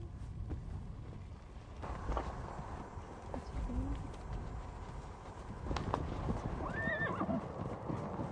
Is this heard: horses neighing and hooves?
yes